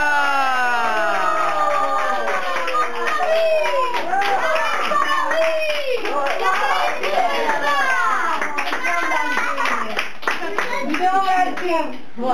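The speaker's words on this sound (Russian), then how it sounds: "Хлопаем!" Children's hands clap in quick bursts through a lively birthday party for a four-year-old girl, with cheering and excited kids' voices over music close by; adults call out between rounds of clapping.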